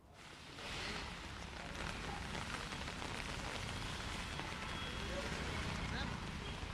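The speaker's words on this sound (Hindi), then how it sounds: "राजधानी जयपुर में बारिश जारी है" Heavy rain pours over Jaipur in a dense, steady hiss that swells in after a quiet first half-second and holds evenly, with no voices over it.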